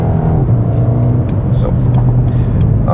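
A Mercedes-AMG A35 engine pulls loudly and steadily on the road, a close, humming rumble with a brief spoken word over it.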